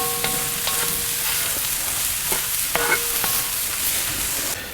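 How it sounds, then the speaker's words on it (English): Cauliflower fried rice stirred on a Kamado Joe grill, with a steady sizzle running throughout and several sharp metallic clinks and scrapes of the utensil against the pan, close up and without talking. "And then we're going to dump in our cauliflower rice. And just keep on stirring it."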